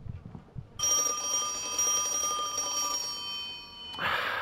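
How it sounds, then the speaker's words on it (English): A telephone rings in a horror video game, a steady electronic bell tone that starts abruptly after a brief quiet moment and continues loudly, then cuts off into a burst of noise near the end. "Fine, I'll answer the phone."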